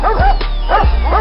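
Dogs bark loudly and close in a comedy sketch's 'rap for dogs' bit, two sharp woofs with yelping overtones about half a second apart, then a third starting at the end.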